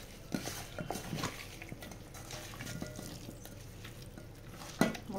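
Chicken is mixed by hand or spoon with turmeric, garam masala and ginger-garlic paste in a bowl, producing soft wet squelches and scattered clinks of metal, with a louder clatter near the end.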